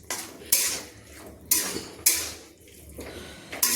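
Spoon scraping and knocking in a pan while semolina and milk dough is stirred on the stove over low to medium flame, with repeated loud metallic scrapes in an uneven rhythm.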